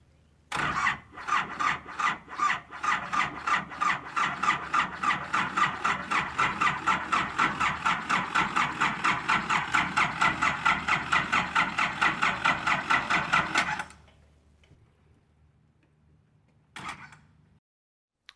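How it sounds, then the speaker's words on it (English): Boat engine in Thailand, jump-started with jumpered batteries: a starter cranks in a fast, even, loud chugging rhythm for about thirteen seconds, then cuts to near silence with a faint low hum and a brief final noise. "Let's take a look at that in slow motion when he hits the starter button."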